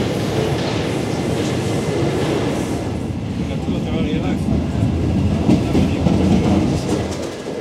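Paris metro train arriving at a station, a loud rumbling of wheels on rails building over several seconds, with a voice speaking underneath.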